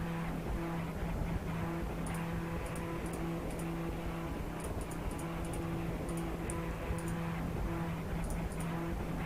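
Steady droning engine note of a Formula One era Ferrari race car at Spa in the video game Assetto Corsa, constant and loud, with faint rhythmic high ticking above the hum and no voices.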